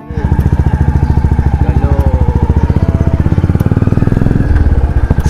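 A 350cc Royal Enfield Bullet motorcycle with an aftermarket silencer runs close by, its engine thumping in a steady, rapid, loud beat throughout.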